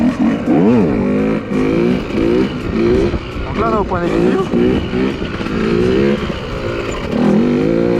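A KTM 125 EXC two-stroke dirt bike during wheelie practice, its engine revving up and down in repeated surges, loud and close, while someone talks over it.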